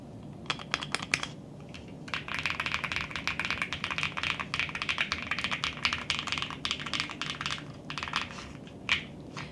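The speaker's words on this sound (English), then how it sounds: "if I change not everything, just change the keycaps on this keyboard, the sounds will be different" A mechanical keyboard fitted with swapped keycaps is typed on in quick, close clicking bursts, with brief pauses between runs of keystrokes.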